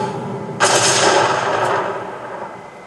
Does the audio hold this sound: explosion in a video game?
yes